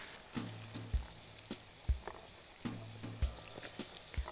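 Liver frying in a pan: a soft, steady hiss, punctuated every second or so by low knocks and clinks from a stirring utensil. The sound stays fairly quiet throughout.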